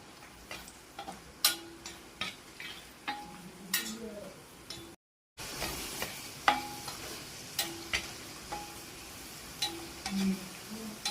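Raisins frying in a pan for mutton dum biryani, a soft steady sizzle broken by light clicking taps of a spoon against the pan at an irregular rhythm, fairly quiet.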